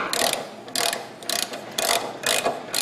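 A hand ratchet clicks through repeated short bursts while running a thread tap up through a mount on a Jeep WJ, close and crisp with brief pauses between strokes.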